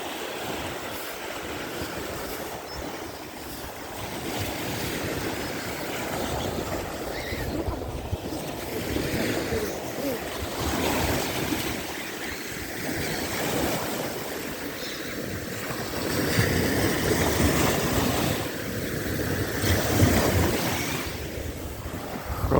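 Sea waves wash onto the windy beach at Langeron in Odesa on a sunny February day, a continuous broad surf roar with gusting wind buffeting the microphone and no voices.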